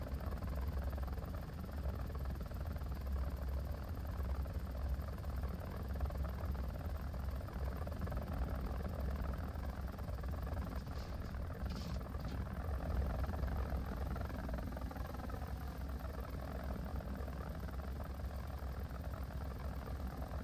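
Helicopter engine and rotor in a flight simulator game, a steady, dense, low drone that holds at an even level the whole time, with no talking.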